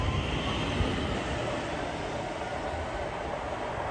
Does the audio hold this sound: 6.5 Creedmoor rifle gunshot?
no